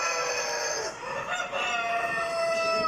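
Chickens at a poultry exhibition call and crow nearby, several overlapping cackles and a drawn-out rooster crow over a busy hall background.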